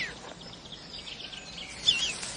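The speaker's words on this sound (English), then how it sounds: "Can't you hear it? The bird." An injured mistle thrush in a radio drama gives a few faint, high chirping calls over quiet background hiss, the clearest near the end.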